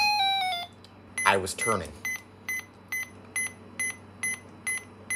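Steady electronic beeps from a Brick Game Snake handheld repeat about every half second, sharp and high-pitched, after a brief burst of game music and a short spoken phrase.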